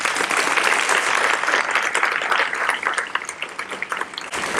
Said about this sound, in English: Let's give her a welcome of applause.